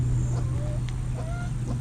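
Hens and roosters cluck in a hay-bedded coop, with scattered short calls over a constant low background hum.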